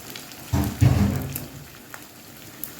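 Liver dropped into a hot pan, bursting into a loud close sizzle that swells and then settles into a fainter steady crackle, with no talk.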